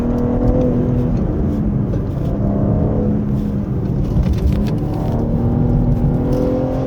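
A 2023 BMW G81 M3 Touring accelerating hard on a winding road with its variable exhaust switched on, the engine note climbing steadily and loud and close, with no talking over it.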